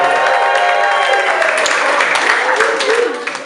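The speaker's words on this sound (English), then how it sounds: "Let's clap a little bit for them." An audience at a comedy night applauds a newlywed couple, dense sustained clapping and some cheering filling the room, tapering off at the end, with a voice speaking over it.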